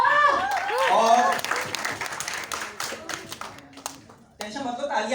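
Clapping from an audience at a corporate retail company event in Lucknow, scattered handclaps mixed with a voice talking over them, then a brief pause and a renewed patch of sound.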